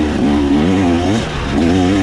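A 2024 KTM 300 XC-W hard-enduro two-stroke motorcycle engine revs loud and close under throttle, its pitch rising and falling in wavering surges across a couple of seconds with no talk.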